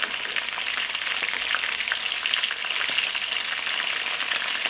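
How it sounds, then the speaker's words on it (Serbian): Steady, close sizzling and crackling of small meatballs (ćuftice) frying in oil in a pan, with occasional light stirring or turning sounds and no voices. "Ćuftice okrećemo na drugu stranu i nastavljamo da ih pržimo."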